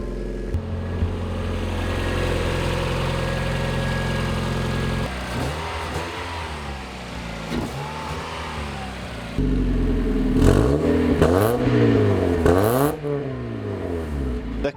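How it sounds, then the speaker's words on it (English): A car engine, just back running after an ECU repair, turns over and settles into a steady idle, then revs repeatedly in rising and falling sweeps, growing louder toward the end; no one speaks. "the car works now. It runs nice and quiet and smooth."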